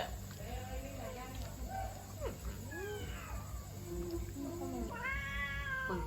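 A cat meows several times, close by, with varied drawn-out and rising calls over a low background hum, and people's voices heard faintly at times.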